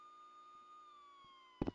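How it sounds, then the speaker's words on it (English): A police siren in the video game Rec Room holds a faint, steady wailing tone that slowly dips in pitch, ending with a brief louder thump. "Why do they have the sirens on?"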